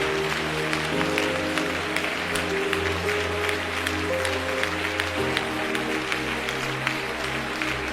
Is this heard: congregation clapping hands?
yes